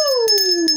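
A bright electronic bell chime from a UK scratchcard win, one sustained ringing tone that glides slowly downward, loud and close, with no talking.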